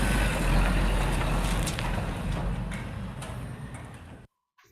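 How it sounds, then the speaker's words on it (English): A small garbage truck outside hauling rubbish away, its engine rumbling low and steady with faint clicks and hiss, fading slightly before cutting off abruptly near the end. "I see a small truck carrying the garbage away."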